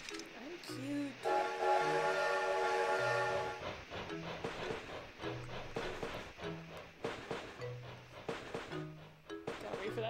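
A train pulls away in a cute life-sim video game, with a steady whistle-like tone, rhythmic low chugging pulses and clattering, while someone talks over it throughout.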